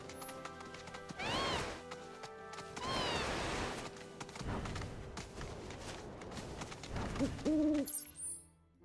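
Calling of a bird creature in a video game: hooting, owl-like cries rising over a dense, busy game soundscape with clattering and thuds, mid-level and continuous for several seconds.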